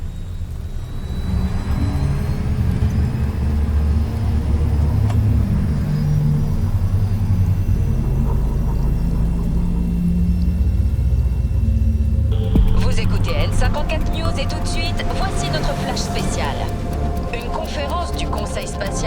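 A car in Cyberpunk 2077 starts up and drives off, a loud low engine rumble running steadily, joined about two-thirds through by brighter whirring and tonal electronic sounds layered over the drive.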